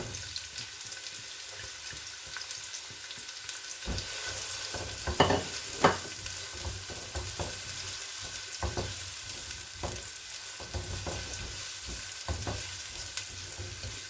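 Sliced onions dropped into about four tablespoons of hot oil for chicken mince, a steady close sizzle with scattered crackles and a couple of louder clatters partway through, no talking.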